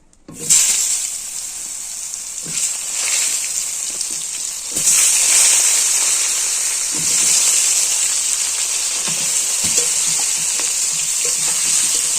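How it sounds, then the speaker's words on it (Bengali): Flowers fry in hot oil in a pan, a loud continuous sizzle that starts abruptly and flares up midway when stirred, with occasional scraping clicks and no talking. "ফুলগুলো ভেজে নেবো"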